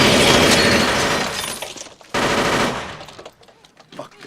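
Rapid, loud gunfire in a film scene, a dense burst of shots with a sharp crack at the midpoint followed by another heavy burst, then fading debris-like clatter and scattered small impacts.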